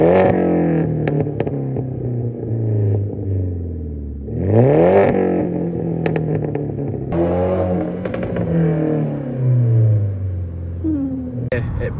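BMW E93 with a Remus exhaust, twin conversion and 4-inch tips accelerating from inside the car, with rising and falling engine notes through gear changes, a sharp rev burst in the middle, and someone talking over it.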